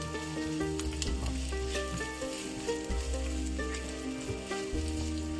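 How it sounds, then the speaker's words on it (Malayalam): Thinly sliced onions sauté in oil left from frying prawns for a Kerala prawn biryani, a loud, dense, continuous sizzle heard up close with occasional stirring scrapes and no voices. "നമ്മൾ പ്രോൺസ് ഫ്രൈ ചെയ്ത സെയിം എണ്ണയിലേക്ക് കുറച്ച് കനം കുറച്ച് അരിഞ്ഞ ഉള്ളി വഴറ്റാനായിട്ട് ഇട്ട് കൊടുക്കാം."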